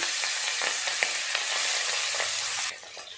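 Hilsa fish fry in the oil left from browning onions, crackling with a bright, steady sizzle that cuts off abruptly shortly before the end, leaving only a faint hiss.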